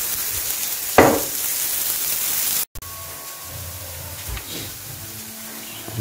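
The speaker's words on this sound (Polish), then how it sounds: "Cebulę i grzyby pieczemy" Onions and mushrooms fry in a pan for homemade burgers, a steady close sizzle and hiss with a brief stirring scrape near the start, no talk.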